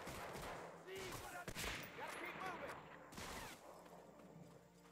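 Gunfire in the Medal of Honor: Frontline war game, with a couple of sharp shot bursts around the middle and again later over a dense battle background, fairly faint overall, with voices mixed in.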